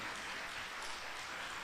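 An audience applauds at the inauguration ceremony of a Washington regional council, a steady, fairly faint wash of many hands clapping with no distinct individual claps.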